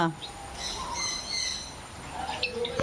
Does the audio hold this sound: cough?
no